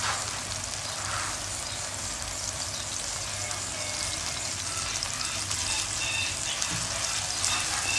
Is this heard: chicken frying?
yes